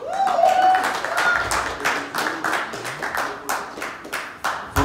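Audience at a press conference claps in uneven, rhythmic bursts of moderate loudness, with a voice speaking over the clapping throughout.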